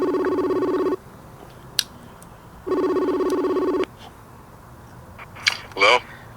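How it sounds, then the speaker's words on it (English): A telephone rings with two long electronic ring bursts separated by a pause, loud and close, during a live call-in talk show, with brief clicks and a short voice fragment afterward. "You missed a call from Billy"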